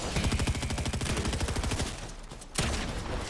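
Rapid automatic gunfire in a video game, a dense rattling burst of shots that runs steadily for about two seconds, thins briefly, then resumes with a sharp loud crack and continued firing.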